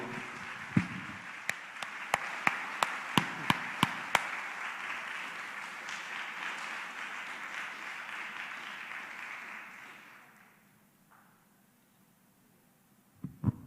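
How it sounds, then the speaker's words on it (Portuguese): A church congregation applauds steadily for about ten seconds at a worship service, a dense wash of clapping with a few sharper claps standing out early on, then fading to near quiet before a couple of brief knocks at the end. "Vamos aplaudir Jesus, a luz que ilumina todo homem"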